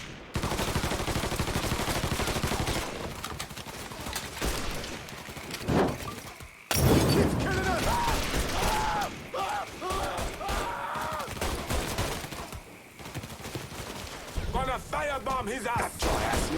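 Gunfire in Mafia III, repeated bursts of rapid shots and heavy bangs with sharp impacts, loud and close, mixed with shouting voices and breaking into a fresh volley after a brief gap.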